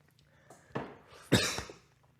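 A person coughs twice in a short burst, close and fairly loud, the second cough harsher than the first, over quiet room background.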